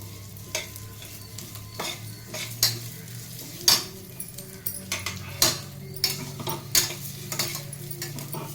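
Moong dal (pesara pappu) is dry-roasted in a pan. A spatula scrapes and clinks against the metal in irregular strokes over a faint, steady sizzle, all fairly quiet and close.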